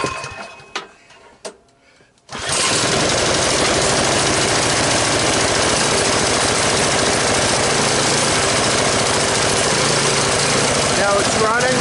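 A Cub Cadet snowblower engine, running on choke just after a cold start, catches after a few sputters and then roars loud and close with a rough, steady, knocking rumble that carries on without pause.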